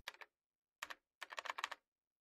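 Someone types a terminal command on a computer keyboard, producing three quiet bursts of rapid key clicks separated by short pauses, heard alone without talk.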